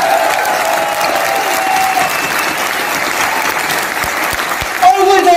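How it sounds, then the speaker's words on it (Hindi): Big round of applause from an audience at a Hemohim product launch event in India, loud sustained clapping filling the hall with a faint tonal note underneath and a brief swell near the end. "with a big round of applause"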